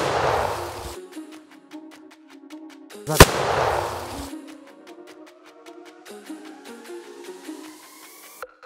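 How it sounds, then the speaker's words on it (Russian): A firecracker wrapped in 1000 rubber bands explodes in a single sharp, loud bang midway, surrounded by quieter rushing noise and background music. "Несмотря на такой мощный взрыв, на петарде нет ни единого повреждения."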